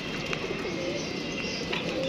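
Pet pigeons at feeding time giving soft, low cooing calls over a steady background hiss, with occasional brighter chirps, close and fairly faint.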